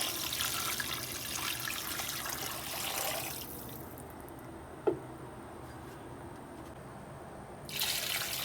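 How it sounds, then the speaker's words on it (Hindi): Water is poured from a jug into a cooking pot for nihari in a rushing stream, pauses with a faint clink, then starts pouring again, fairly quiet and close. "ये देखिए 2 जग भर के हमने पानी डाल दिया है।"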